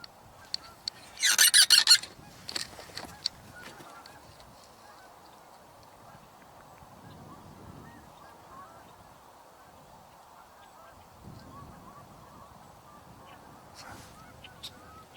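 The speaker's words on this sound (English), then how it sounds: "Big old swans taking off." Large swans take off with a loud, brief burst of honking calls near the start, a few scattered calls following, then quiet outdoor ambience with low rumbles and another faint call near the end.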